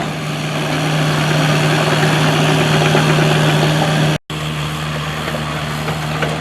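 A small Traco tracked loader's engine runs steadily and loud and close, with a constant low drone and a brief cut near the end, during earthwork prep for a cabin addition.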